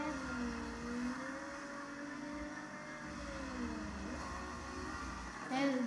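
A car engine drones steadily as it revs through a drift, its pitch sliding up and down in long sweeps, loud and close, with a sharper burst of revving near the end.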